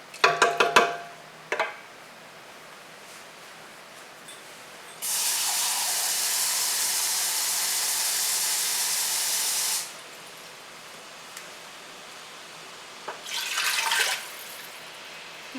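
Water poured into a hot pot of mustard-colored chicken and dumplings base, a loud steady hiss of steam lasting about five seconds, with brief clanks before and a short sputtering burst near the end.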